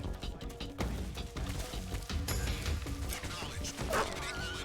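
Dogs bark in Metal Gear Solid 3: Snake Eater, a few short yips and barks buried in a dense mix of game music, crashes and effects, with talk running over it.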